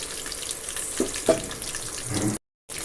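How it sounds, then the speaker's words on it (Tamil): Ground masala paste for pachai pattani sundal hits a pan of fried curry leaves, giving a soft, close sizzle with a few stirring scrapes and bumps before it cuts to brief silence. "கருவேப்பிலை பொரிஞ்சு வந்ததும் நம்ம அரைச்சி வச்ச விழுதை அதில் சேர்த்துக்குவோம்"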